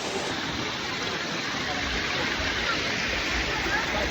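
Kasmal waterfall running low on water, with friends nearby, gives a steady, dense rush of falling water that fills the whole moment at an even, fairly loud level without letting up.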